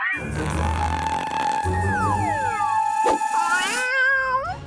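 A cat lets out several long, drawn-out meows and yowls that rise and fall in pitch, close and clear.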